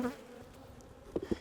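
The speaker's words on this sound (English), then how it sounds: "let those bees go down." Bees from a beehive with a queen excluder temporarily removed and a fume board on, moving down out of the honey supers; a low steady buzzing hum fills the clip, with a couple of louder, closer buzzes near the end.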